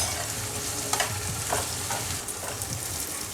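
Chopped onion sizzles in hot oil with salt for a Koli-style dried prawn and potato dish, a close, steady frying hiss broken by soft scraping stirs.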